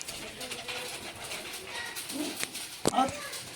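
A red Cheena pigeon coos briefly a couple of times, close, among people talking and some handling noises.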